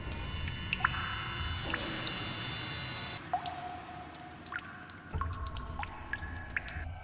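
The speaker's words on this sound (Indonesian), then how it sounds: "Tetesan air itu semakin sering jatuh di atas tubuh mereka berdua." Scattered water drops fall at an irregular pace, each a small plinking drip over a soft, steady ambient hiss.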